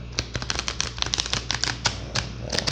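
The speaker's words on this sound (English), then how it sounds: "I'll give it a shuffle here" Tarot cards being shuffled give a quick, crisp flutter of dense tapping clicks, close and continuous, with no voices over them.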